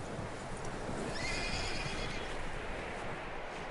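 A horse whinnies loudly in the video game Red Dead Redemption 2 over a steady ambient bed, with faint hoof clops and outdoor noise underneath.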